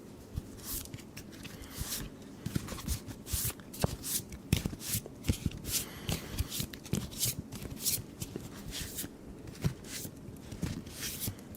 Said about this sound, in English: So we're going to do a nice little shuffle here.